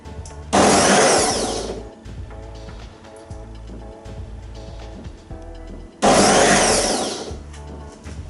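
A Ninja food processor on its chop setting whirs loudly through vegetables for a chunky white bean minestrone soup, in two separate bursts of about a second and a half each with a quieter lull between them.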